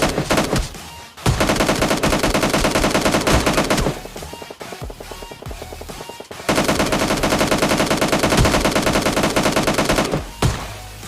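An Mk14 rifle fires on full auto in a mobile battle game, long rapid bursts of loud gunfire broken by short pauses and then resuming, with no talking.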